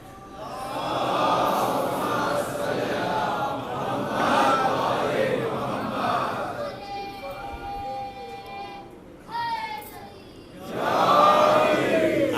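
A crowd at a Muharram majlis raises the Naara-e-Haidari slogan, a broad swell of massed voices rising and falling. A lone voice leads in between, and a loud surge of the crowd follows at the end.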